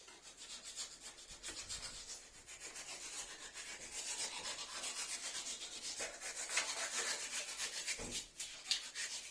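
Scraping and rubbing of a blade trimming excess fabric along wooden battens on a wall during a home office renovation, a steady close abrasive texture with brief louder strokes.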